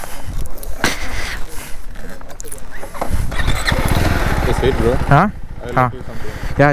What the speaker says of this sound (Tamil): அங்கே இருக்கு பாருங்கள் கேடிஎம் குட்டி வண்டி